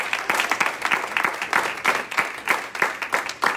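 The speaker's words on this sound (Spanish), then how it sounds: "Ahí le dan un aplauso, Señor." Congregation applause at a church service, a crowd clapping in loose, rhythmic bursts, moderately loud and fairly close.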